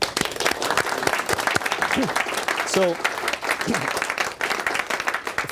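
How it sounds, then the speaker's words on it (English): An audience bursts into applause, a steady wash of clapping lasting throughout, with a voice talking briefly over it. "Round of applause."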